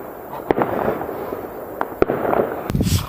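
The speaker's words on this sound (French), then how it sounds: "les feux d'artifice cette année-ci, ça te traumatise, hein?" Fireworks burst in sharp, loud bangs spaced a second or so apart, each followed by crackling, over a steady background hiss.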